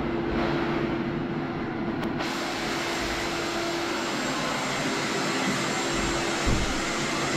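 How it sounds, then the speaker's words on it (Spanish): A vacuum cleaner sucks up drain flies in a bathroom, its loud, steady broadband roar running continuously from start to finish with no talking. "Hemos acabado con ellas usando la aspiradora."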